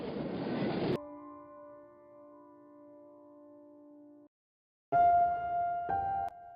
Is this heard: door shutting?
no